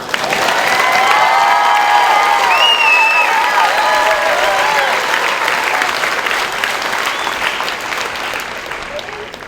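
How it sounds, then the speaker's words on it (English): Loud, dense applause with whoops and cheers from airmen and guardians at a training squadron coin and retreat ceremony, sustained for several seconds before gradually thinning out. "go ahead, clap it up."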